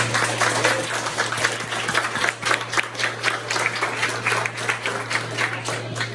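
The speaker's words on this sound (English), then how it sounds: "Everybody give a round of applause for Ortiz." Applause at a retirement party, sustained clapping from a gathered crowd, fairly loud and continuous throughout, with a steady low electrical hum underneath.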